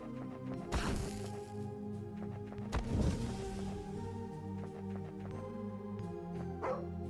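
Dog barking from the video game Skald, a few sharp yips and barks standing out over steady looping game music, with louder bursts near the start and middle.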